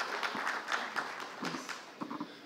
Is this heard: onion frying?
no